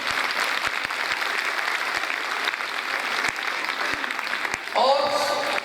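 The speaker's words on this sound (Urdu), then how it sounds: "بہترین سی تالیاں بجا دیں" An audience claps at a school annual result function, a sustained crowd of hands rattling along steadily, with sharp individual claps standing out and a brief tonal voice or sound near the end.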